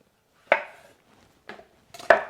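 A kitchen knife cuts tomatoes on a board for Mexican salsa, giving three crisp, separate chopping knocks that are close and clear in an otherwise quiet room.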